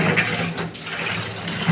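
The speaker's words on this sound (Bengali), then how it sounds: "আগে আস্তা ধুয়ে নিচ্ছি চিংড়ি মাছগুলো, পরে কাটবো" Tap water runs steadily over prawns being rinsed before cutting, a close, continuous broadband splash with no pauses and no voices.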